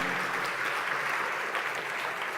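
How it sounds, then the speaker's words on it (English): A crowd at the DevFest Ukraine developer conference claps together, steady and fairly loud applause filling the room without a break. "Clap your hands."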